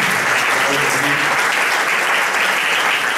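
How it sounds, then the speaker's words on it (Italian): Loud, dense applause from an audience at a talk on politics, a continuous even roar of clapping that holds steady throughout with no voices over it. "Comincerei con un applauso se possiamo."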